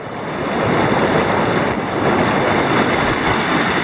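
Water flowing over a block stone weir on the Ogmore, a loud steady rushing roar close by, with some wind noise and no talk.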